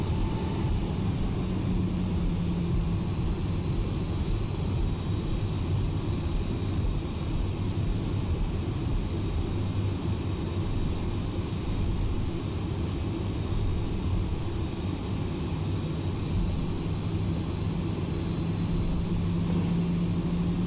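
An airliner taxiing toward the runway in the X-Plane flight simulator, on a Delta flight from Seattle to Los Angeles, gives a constant, even jet-engine drone that stays unchanged throughout, with no talking.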